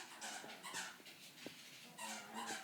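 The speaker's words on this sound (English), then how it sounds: "I don't know if you guys can hear my dogs playing in the background, but they're squeaking the toy." Dogs play in another room, squeaking a rubber toy and snuffling, faint, muffled squeaks and scuffles repeating in irregular bursts.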